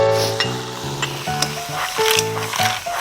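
White parts of scallion and onion stir-fry in a hot pan for a spicy japchae dish, with a loud, close sizzle throughout, broken by the scrape and clatter of a utensil tossing the vegetables, plus background musical tones.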